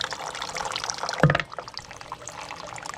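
A small Wuben G5 EDC flashlight drops into a water fountain, giving one sharp splash near the middle with a brief burst of bubbling, set against steady running water.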